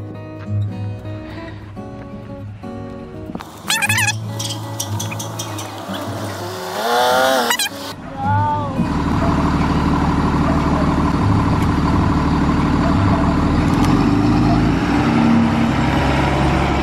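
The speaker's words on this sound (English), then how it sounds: "Here comes the bus." A school bus pulls up in the afternoon, its heavy engine idling and rumbling nearby, growing louder and steadier in the second half, with a burst of other noise and brief voices before it arrives.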